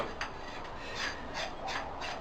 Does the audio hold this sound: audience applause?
no